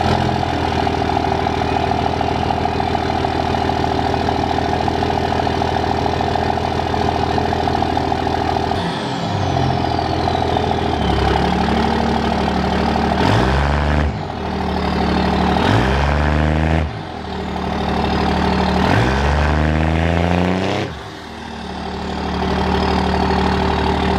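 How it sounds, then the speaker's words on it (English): A big diesel truck engine with a turbo-back exhaust and 6-inch tip idles with a deep, throaty rumble, revving up several times in quick bursts before settling back, with air brake hisses. "I'll start it up so you guys can hear what it sounds like"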